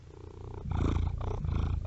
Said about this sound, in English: the purring will be picked up by the microphones